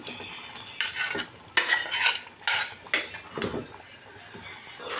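A spoon scrapes and clinks through dal and bottle gourd curry in a pot, with a few separate close stirring strokes and brief pauses between them.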